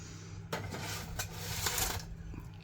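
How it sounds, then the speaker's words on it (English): Metal baking pans of banana bread batter set into a preheated oven, giving a few close clanks and scrapes at about one-second intervals against a low oven hum. "Put all this into the oven."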